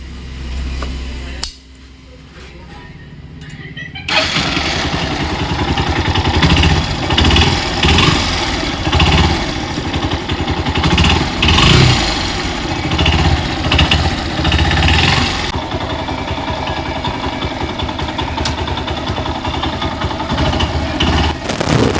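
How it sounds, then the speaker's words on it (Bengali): A Yamaha SZ RR motorcycle engine with a knocking fault starts up after a short quiet stretch, then runs loud and close for about eighteen seconds with a rough, uneven throb before settling into a steadier idle. "গাড়িটা স্টার্ট করলে একটা ঘাট ঘাট করে আওয়াজ হচ্ছে"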